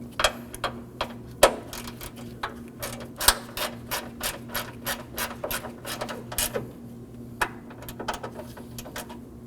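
Ratchet wrench clicking as it snugs a 10mm bolt on an Acura MDX during AC condenser fan replacement, a close run of quick rhythmic ratcheting clicks in short bursts, without talk.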